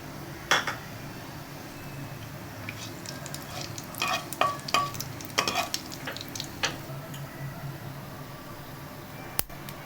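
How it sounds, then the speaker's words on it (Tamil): Whole spices — fennel, cinnamon, cloves and cardamom — tempered in ghee for semiya kichadi, giving a low steady sizzle with scattered clinks and scrapes of a stirring spoon against the pan. "நெய் வாசனை தாளிக்கிறதுக்கு கொஞ்சம் சோம்பு, ஒரு 2 பட்டை, ஒரு 2 லவங்கம், ஒரு ஏலக்காய் வாசனையாக இருக்கும்."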